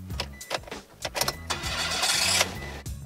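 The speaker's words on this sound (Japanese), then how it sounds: "エンジンをかけますと" A Mitsubishi i (HA1W) rear-midship kei car's engine is started, a close cranking whir with clicks that catches and settles into a steady idle hum.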